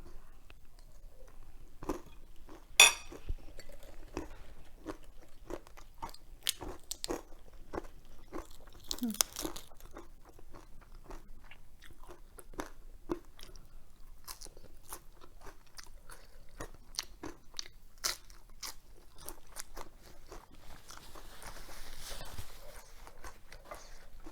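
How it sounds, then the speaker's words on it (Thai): Crunchy cucumber in a spicy Thai pounded salad with crispy fish is bitten and chewed close to the microphone in a series of irregular, crisp crunches and wet munching, with occasional quiet speech in between. "เอาคำสุดท้ายละเผ็ดมาก"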